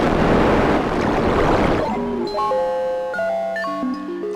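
Elastic OSC synthesizer particle noise: a dense, rushing wash of noise that fades into sparse, chiming synth tones stepping through shifting pitches, with no voices.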